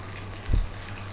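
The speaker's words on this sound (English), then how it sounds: "And to that we're going to add our onions." Sliced white onions go into hot melted fat in a pan at medium heat, and they give a short, sudden burst of sizzle over a faint steady frying hiss.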